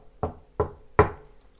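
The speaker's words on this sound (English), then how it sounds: "And once more he walked and walked until he came back to the big castle and knocked on the door." Three firm knocks on a heavy castle door, evenly spaced and close, each a sharp dull thud with a short decay, alone without voices.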